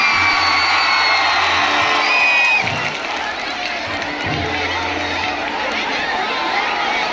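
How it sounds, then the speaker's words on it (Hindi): A large audience at a Khesari Lal Yadav live Bhojpuri show in Kolkata roars with sustained cheering, whoops and clapping, a loud, steady wash of crowd noise throughout. "ताली बजा के आशीर्वाद दीजिए।"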